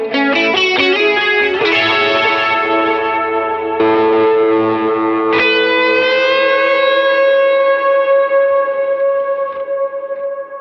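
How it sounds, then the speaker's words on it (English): Lead electric guitar plays a worship song's chorus riff in a sustained, distorted tone with chorus and echo effects, notes ringing and bending one after another, loud and alone. "So I went ahead and just played the chorus riff so you kind of hear it a little more in context."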